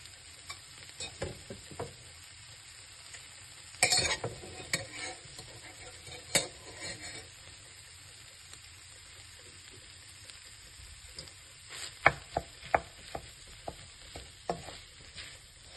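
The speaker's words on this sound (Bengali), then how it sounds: "পুরো রাইসটা এরকম করে আমি এটাতে ভালো করে মিক্স করে নেব।" A spoon scrapes and knocks against a pot as rice is stirred into a cooking mixture for bisibele bath, with soft irregular clinks and scrapes over a faint background hiss.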